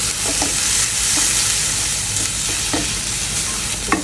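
Shrimp frying in a pan: a dense, loud, continuous sizzle up close. A few soft knocks and scrapes from a utensil sit under it, and no one talks.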